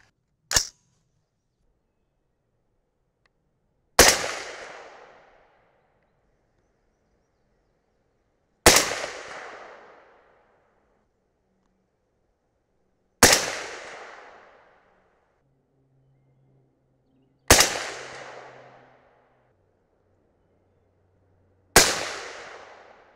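Six sharp rifle shots from an Aero Precision M5E1 AR-10 firing 180 grain Hornady SST bullets over 40.0 grains of Varget powder. Each loud crack rings out with a short decaying echo, evenly spaced about four to five seconds apart in otherwise quiet surroundings.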